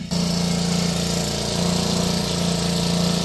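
An engine idles steadily close by while maple taps are being pulled at the end of the season, producing a constant low, even drone with no talk over it.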